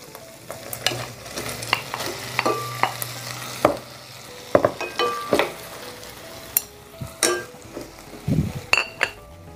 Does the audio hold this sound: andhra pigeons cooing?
no